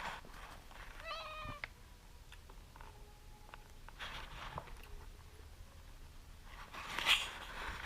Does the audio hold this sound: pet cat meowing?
yes